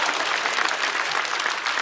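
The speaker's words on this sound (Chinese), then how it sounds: "可以鼓掌。" Audience applause at a stand-up comedy show, a dense, loud wash of clapping from a full crowd that fills the whole moment evenly.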